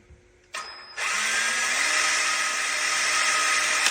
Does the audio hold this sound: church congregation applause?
no